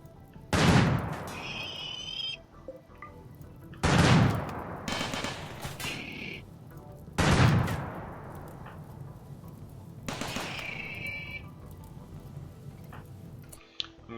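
Turret fire in the game RimWorld, four separate loud bursts a few seconds apart, each a sharp blast trailing off, with quieter game noise between.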